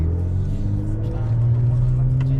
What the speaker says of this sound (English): so I'm downshifting, get some nice pops